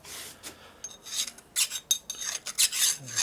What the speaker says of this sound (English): get a dull file here.